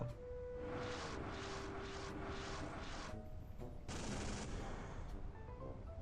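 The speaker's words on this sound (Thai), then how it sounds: "เสียงปืนมันฟัวฟัวฟัวฟัว" Rapid bursts of naval battle video game gunfire, USS Missouri versus RF Moskva, crackle over a dense, busy background, with repeated volleys and a sharp louder burst near the end.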